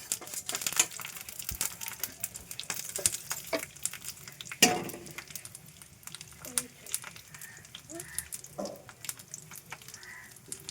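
Peanuts, dried red chillies, garlic and coriander seeds for gongura pickle are tossed into a pan and stirred, making soft crackles, rattles and clinks with a faint sizzle underneath, while someone talks over it.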